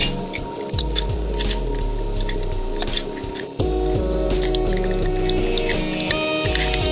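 Plastic parts of a G1 Jetfire transforming toy are handled and folded, producing close, crisp clicks and snaps over a steady low background hum, with several distinct sharp ticks.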